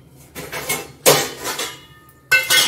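Almonds set down on a plate, a few close clattering knocks of dish and utensil with short pauses between them.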